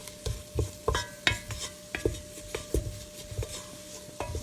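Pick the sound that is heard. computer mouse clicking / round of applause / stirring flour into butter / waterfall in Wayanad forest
stirring flour into butter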